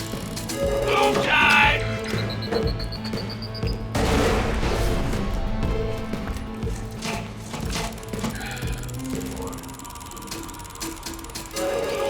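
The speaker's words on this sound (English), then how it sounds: "Gatling gun." A Gatling gun fires in loud, dense bursts of rapid shots mixed with crashing and splintering impacts, continuing in waves over a busy, layered background.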